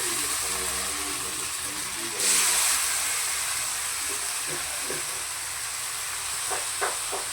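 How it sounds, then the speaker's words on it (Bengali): Marinated mutton goes into a pan of fried onions with a sudden hissing sizzle. A steady, close frying hiss follows, with a few soft clinks and stirring scrapes. "তো আমি এখন মেখে রাখা মাটনগুলো দিয়ে দিচ্ছি।"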